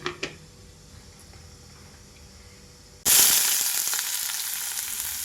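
Onions and green chilies hit hot sunflower oil halfway through, bursting into a loud, bright, sustained sizzle that stays strong and close after a quiet start with a couple of small clinks.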